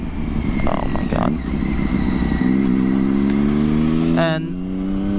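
A Triumph Daytona 675 motorcycle engine roars close by and then revs up in a rising whine that climbs sharply before cutting off, with a voice briefly heard over it early on.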